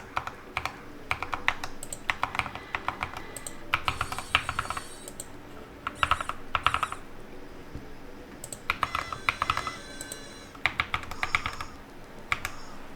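Keys on a Keychron K8 mechanical keyboard are pressed in quick bursts of crisp clicks, clusters of rapid typing separated by short pauses, close and clear without speech.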